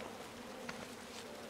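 Bees buzz in the King's Quest video game as a steady, dense hum with no gaps, moderately close, over a continuous background.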